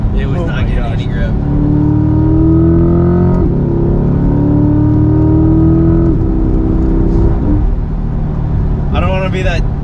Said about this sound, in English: there she started spinning. It was not getting any grip.